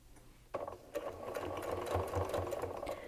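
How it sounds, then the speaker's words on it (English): A sewing machine stitches curved quilt pieces, starting up after a brief quiet moment and then running as a steady close mechanical hum with rapid needle ticking. "notice I'm sewing with the bow tie part side up"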